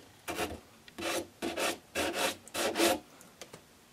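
A brazed steel tube joint on a crawler chassis being scuffed clean by hand: a series of about six short rasping strokes in an even back-and-forth rhythm, close and fairly quiet, with no talk.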